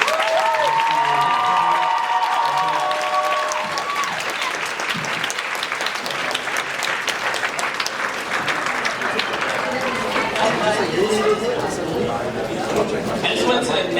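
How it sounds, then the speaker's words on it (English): An audience at a live fan show about The Umbrella Academy giving a round of applause, with steady crowd clapping mixed with cheers, whoops and excited voices throughout. "So can we give a round of applause?"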